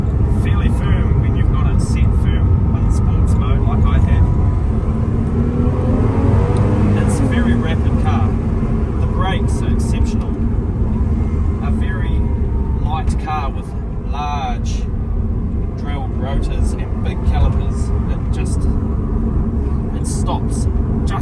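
A Porsche Cayman S engine drones loud and steady inside the cabin while driving on the road, with someone talking over it throughout.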